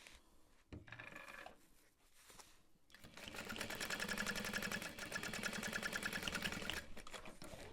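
Sewing machine stitching down the center of a cargo pocket on a backpack, starting with a few short bursts and then running in a steady, fast, close mechanical whir for several seconds before slowing.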